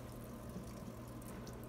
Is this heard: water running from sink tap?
yes